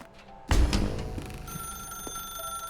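Telephone ringing in the video game The Stanley Parable, a sudden loud onset followed by sustained bright ringing tones that continue steadily to the end.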